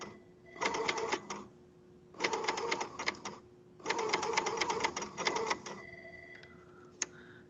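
A sewing machine runs a pajama seam in three quick rapid-stitching bursts separated by short pauses, close and crisp, followed by a few lighter clicks and a sharp tick near the end.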